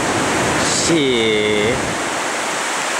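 Steady broadband rushing of river water at the Jeuram dam in Aceh, a loud continuous roar filling the whole clip, with a brief voice speaking over it partway through.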